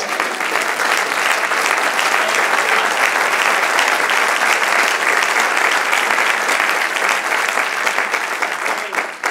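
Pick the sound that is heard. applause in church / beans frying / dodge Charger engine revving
applause in church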